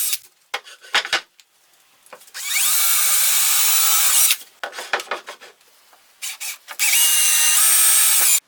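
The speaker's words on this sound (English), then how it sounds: "Now I drill a pilot hole in those marks I made." A power drill bores pilot holes into a tropical hardwood garden tabletop at marked bolt positions, running in several loud sustained whining bursts of about one to two seconds, separated by short knocks and handling clatter.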